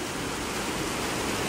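The Blue River in Travnik, Bosnia, rushing steadily as a dense, broad hiss of flowing water, close and even throughout without any voices.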